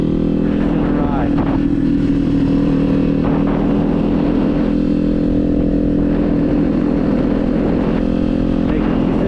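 Kawasaki Z400 motorcycle engine droning steadily and loudly throughout a ride, with its tone rising and falling slightly as the throttle shifts, plus constant wind rush.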